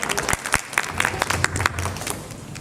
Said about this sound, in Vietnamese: Xin mời người cho một tràng vỗ tay.